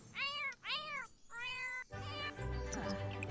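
A cat meows in The Sims 4 video game, three clear, loud, drawn-out meows in a row, followed by game sounds and background music with no talking.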